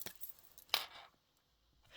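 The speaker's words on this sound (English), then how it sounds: "I've got a lot of coins in my roll it up pouch." Coins clink and jingle briefly in a pouch in a few quick metallic bursts, fairly faint, then fade to quiet.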